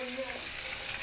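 A short burst of loud, steady sizzling and bubbling, like food frying in hot oil, close up.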